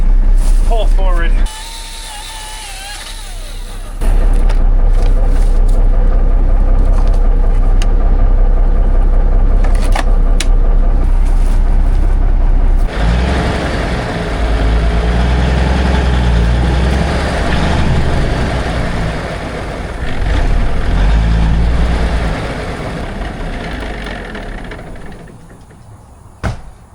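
A 1978 Kenworth K100 cabover truck engine runs loud and close with a deep low rumble, quieter at first and then rising and straining as the truck tries to pull forward, with voices talking at points and a short hiss near the end.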